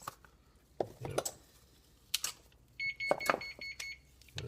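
An oven timer beeps in a kitchen, a short run of high, evenly spaced electronic tones cutting through near the end, with scattered knocks and clatter from food prep before it.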